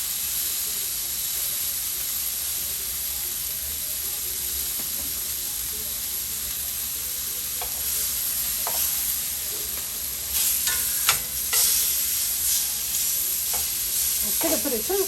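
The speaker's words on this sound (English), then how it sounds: "which means we're getting it seared well." Steaks searing in a hot, dry pan give a constant loud sizzling hiss throughout, with occasional brief scrapes and clicks of utensils near the end.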